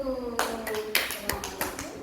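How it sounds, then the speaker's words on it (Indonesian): A classroom clapping for a student group, a handful of sharp separate claps following a spoken voice, close and moderately loud with small gaps between them. "tepuk tangan untuk kelompok satu"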